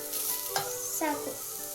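Grated coconut stir-fried in a pan for a village-style huggi rice recipe, a soft continuous sizzle with a couple of brief scraping stirs, fairly quiet and close, with no voices.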